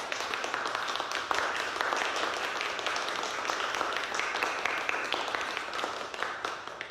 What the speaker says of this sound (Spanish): Carlos Martín Briceño, para el que pido un fuerte aplauso